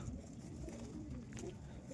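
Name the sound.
fantail pigeons cooing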